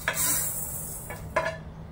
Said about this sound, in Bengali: এই যে হয়ে গেছে, আমি এবার মশলাটা ঢেলে দিচ্ছি।